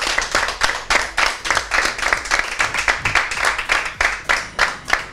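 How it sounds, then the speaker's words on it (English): An audience at a televised makeup competition claps in steady, rhythmic bursts, fairly close and loud, with faint voices underneath. "On applaudit encore pour le travail des trois."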